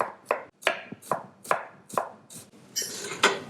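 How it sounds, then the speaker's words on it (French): A knife finely chopping base vegetables on a cutting board for a guinea fowl sauce, with about eight crisp, evenly spaced cuts close up and a quicker flurry of strokes near the end. "nous allons tailler les légumes de base. Donc une taille assez fine."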